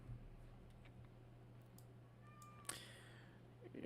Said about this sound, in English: you probably hear my cat in the background